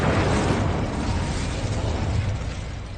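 The Incendio fire spell in Hogwarts Legacy is cast as a loud, steady roaring whoosh of flame that stays dense and broad before easing off slightly toward the end.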